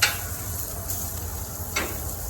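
Steady hissing sizzle of prosciutto-wrapped shrimp on a hot grill, with a faint tick or scrape of a utensil partway through; no talking.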